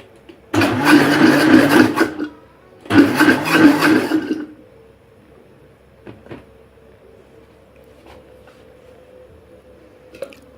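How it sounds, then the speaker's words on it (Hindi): A kitchen blender grinds a cooled tomato mixture for tomato pickle in two short, loud pulses of about a second and a half each, followed by quiet with faint clinks. "अब हम इसे ब्लेंडर में डाल के हल्का सा पीस लेंगे।"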